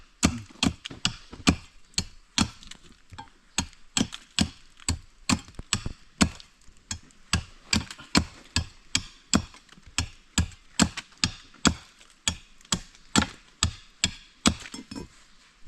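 Wood being chopped in a forest: sharp, evenly spaced axe strikes, roughly two per second, ring out loud and close for the whole stretch with no talking.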